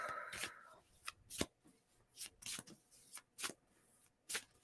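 A deck of cards shuffled during an intuitive reading, with a series of short crisp riffles and snaps in an irregular rhythm, close and quiet.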